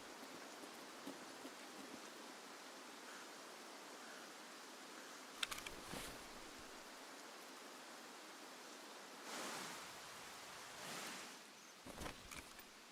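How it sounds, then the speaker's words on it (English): Faint, soft rain from the video game Escape from Tarkov, a thin steady patter heard from a distance, broken by a few short louder rustling bursts. "Can't hear with the rain."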